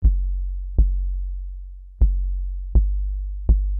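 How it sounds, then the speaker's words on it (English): Synth bass line built from trash bag samples, five deep plucked bass notes at uneven intervals, each with a sharp attack and a long sustained low tone, loud and alone. "So I made a bass line as well."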